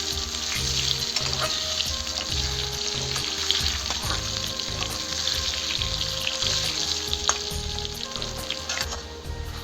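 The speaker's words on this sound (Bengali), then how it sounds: "আলু দুটো ভালো করে ভেজে নেবো লাল লাল করে" Two cut potatoes fry in hot oil for a tangra fish curry, a loud continuous sizzle and crackle with occasional stirring scrapes, close by and with no talking.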